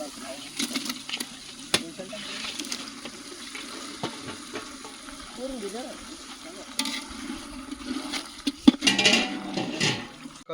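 Pork frying in a pan, a low continuous sizzle with occasional stirring clatters and sharp clicks, some watery splashing and faint background voices mixed in.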